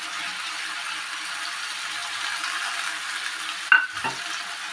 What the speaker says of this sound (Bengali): এতে আমি এবার ভেজে রাখা আলুর টুকরোগুলো দিয়ে দেবো